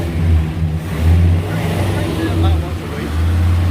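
A Ford F100 truck engine running close by, its low rumble swelling in a few rev-like surges and settling back, with someone talking over it.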